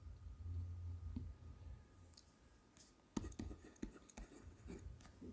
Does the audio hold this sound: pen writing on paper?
yes